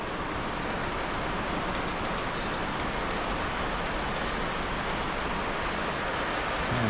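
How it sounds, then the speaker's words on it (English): An O scale two-rail model train hauling a long string of 50 hopper cars rumbles along the track in a continuous dense clatter of wheels, steady and fairly close, with no talking. "So now we have 50 hoppers on this train."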